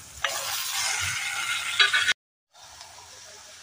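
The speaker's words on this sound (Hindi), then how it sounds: "तो प्याज ब्राउन होना शुरू हो गई, तो अभी मैं इसमें ये तुरई डाल रही हूँ।" Chopped ridge gourd tipped into a pan of browning onions sets off a loud, steady frying sizzle for about two seconds, then a brief silence before a quieter, continuing hiss as the vegetables cook.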